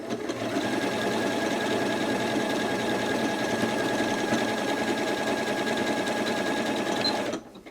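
A Janome Atelier 6 sewing machine runs steadily up close, stitching a decorative pattern with an even mechanical whir and rapid needle rhythm that holds for about seven seconds and then stops.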